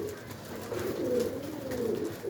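A pigeon coos steadily in low, throaty warbles, close by, with a faint background hum and no talking.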